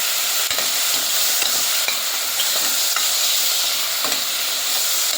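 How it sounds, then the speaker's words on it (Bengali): Shrimp fry in hot oil in a pan, a loud, close, continuous sizzle broken by brief clicks and scrapes of stirring, with no voices. "চিংড়ি মাছটা ভাজি করে নিতে হবে।"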